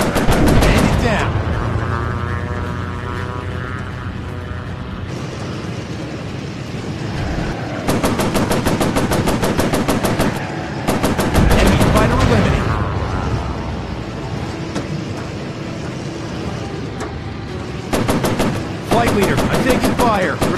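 Enemy machine-gun fire in the VR air-combat game Warplanes, several long rapid bursts over a droning propeller engine, loud and close, with pilot voices heard between the volleys.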